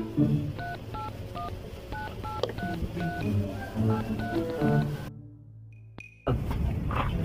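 Telephone keypad dialing tones beep in a quick irregular sequence, each tone a short clear pair of pitches, steady and fairly loud, followed by a brief gap and a single longer tone before background noise returns.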